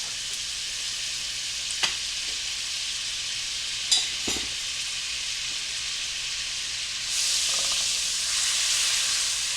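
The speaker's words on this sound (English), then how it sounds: "I'm going to add 6 tablespoons of butter, and we're going to melt that." Butter melting in a skillet alongside a little oil and meat bits gives a steady, close sizzle and hiss with a couple of brief utensil knocks, swelling louder near the end.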